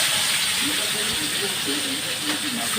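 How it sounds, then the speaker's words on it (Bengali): Salted, turmeric-coated tangra fish frying in hot oil in a pan: a dense, continuous sizzle and hiss with faint crackles, steady and close throughout. "এবার তেল গরম হচ্ছে, ট্যাংরা মাছটা ভাজতে দেবো।"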